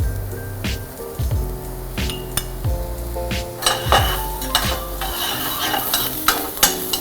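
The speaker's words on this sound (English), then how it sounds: "So we are going to cook the rice, onion with the mushroom." Onion and shimeji mushrooms cooking in a pan for mushroom risotto, loud stirring scrapes and utensil knocks over a moderate sizzle, close and busy with no voices.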